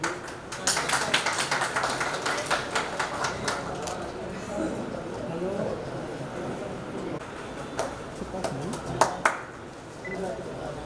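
Scattered applause and tapping at an oath-taking ceremony, with clusters of claps through the first half and a few louder bursts near the end, heard under a speaker addressing the gathering.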